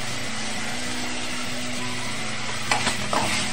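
Onion, garlic and ginger paste frying golden brown in a pan with kasuri methi, a steady dense sizzle throughout with a few brief stirring clatters near the end.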